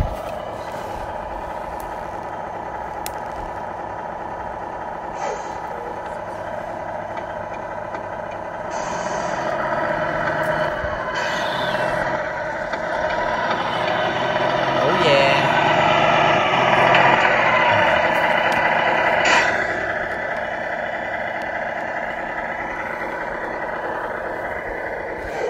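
A 1/14 Tamiya King Hauler RC truck with hydraulic loader and flatbed trailer, sitting on recovery traction boards, whirs steadily as it tries to drive forward, the motor swelling louder midway before easing back, with no talk.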